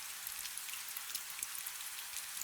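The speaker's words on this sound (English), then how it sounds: "The rain becomes a distant whisper, a faint echo that fades and fades" Steady rain falling on stone, a soft, even hiss of fine drops pattering at a low, distant level with no voices.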